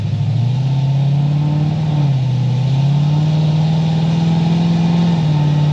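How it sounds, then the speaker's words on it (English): Chevrolet Corvette C6 Z06 with an automatic swap, check engine light on, revving on a dyno: a loud, steady engine drone climbing and dipping slightly in pitch, held high and close throughout with no talk. "I'll just rev it higher and see what we got"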